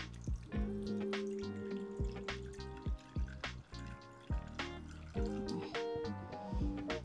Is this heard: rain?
no